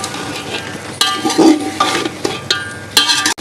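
A spoon stirs yogurt into a chicken yakhni pulao mixture in a pot, giving loud close scraping and metal clinks over a soft sizzle.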